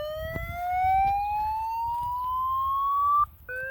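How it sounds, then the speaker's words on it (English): A 5 watt 100V horn speaker driven by a 24V 50W amplifier sounds a loud electronic alert tone, a single steadily rising sweep that cuts off abruptly near the end, then restarts lower for a moment. "So we can we'll see how loud this is just with the alert tone."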